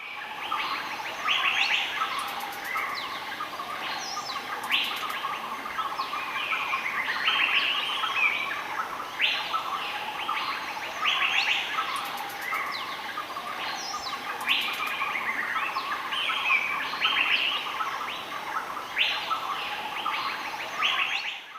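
Many birds chirp and call continuously in a Laotian rainforest, a dense layered chorus of repeated tweets and trills at steady volume with no voices.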